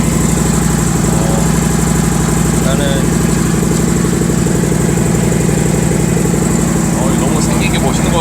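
A Harley-Davidson Street Glide with an Arlen Ness Velocity 65 air intake idles steadily and close by, a loud, continuous low rumble with a lumpy pulse running the whole way through, while someone speaks briefly over it.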